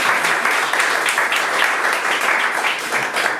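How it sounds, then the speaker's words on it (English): An audience at a book launch and symposium gives a round of applause, a dense, even wash of many hands clapping at close range for several seconds. "Quick round of applause for all."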